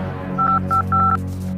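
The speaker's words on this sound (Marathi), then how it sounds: "लगता है हर्ष को लगाना पड़ेगा फोन।" A phone number is dialed on a telephone keypad: a quick run of several clear touch-tone beeps over a faint low hum, with no speech.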